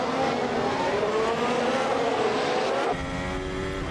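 A Red Bull F1 car in Assetto Corsa accelerates out of Degner 2 at Suzuka, its high-pitched engine screaming and rising steadily before a sharp upshift near the end, loud and continuous from onboard.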